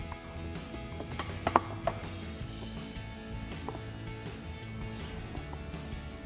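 A clip remover tool pops plastic push clips out of the bumper area of a Jeep Gladiator JT, giving a couple of sharp, quiet clicks close by over faint background handling.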